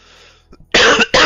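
Two loud, harsh coughs burst out close by in quick succession, the first longer and the second short, following a quiet, faintly noisy stretch.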